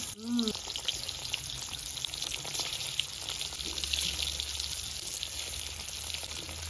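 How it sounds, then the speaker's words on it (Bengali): Eggs frying in hot oil in a pan on an outdoor stove, with a steady sizzle and faint crackle throughout and a short voice sound at the start. "এবার ডিমগুলো ভেজে নি।"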